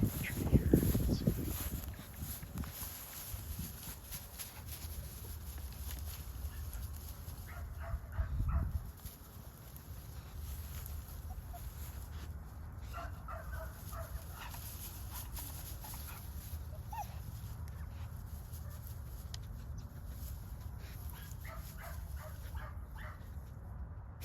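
A dog yips and barks near the start, then whimpers and whines intermittently over a long stretch of quiet outdoor background, with louder bursts early and faint whines later.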